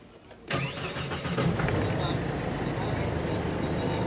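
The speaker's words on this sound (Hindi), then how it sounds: "गाड़ी हमारी स्टार्ट हो गई है" A Force mini bus engine cranks and catches with a sharp onset, then settles into a steady mid-pitched idle close by, with someone talking over it.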